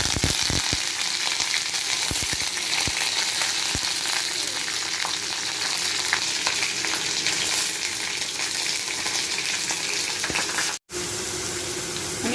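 Whole bay leaf, cumin seeds, cardamom and curry leaves fry in hot oil for a namkeen rice dish, a steady loud sizzle with sharp crackling pops early on and a brief break near the end, with no talking.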